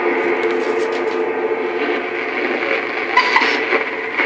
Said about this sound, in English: Just get a little of that static out of there.